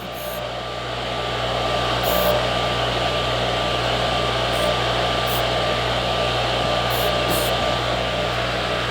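A buffing wheel on a Total Seal piston ring end filer deburring the ends of piston rings, giving a steady, loud motorized whir with a faint high whine that runs unbroken throughout, with no talking.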